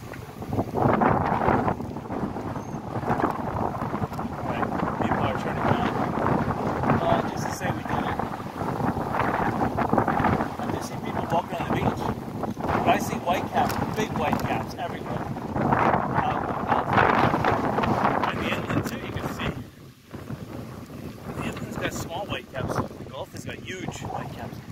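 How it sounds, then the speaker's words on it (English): Strong, cold wind at Fort Myers Beach, Florida, hard enough to knock over an awning and fence, roars and buffets the microphone almost without pause, dipping only briefly near the end. "That's how strong the wind is."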